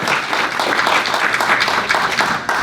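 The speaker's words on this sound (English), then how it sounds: "Let's give them a round of applause." An audience at an indoor fentanyl health presentation breaks into sustained applause, dense clapping from many hands that carries steadily and loudly throughout with no one speaking over it.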